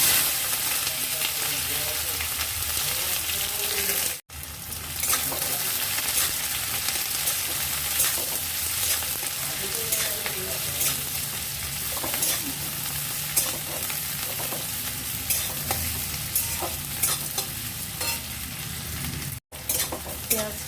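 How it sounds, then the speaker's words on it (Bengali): Chopped onion fries in hot mustard oil, a continuous close sizzle broken by frequent scraping and stirring clatter from a utensil against the pan, with two brief near-silent gaps. "একটু ভালো করে ভেজে নেবে লাল লাল করে"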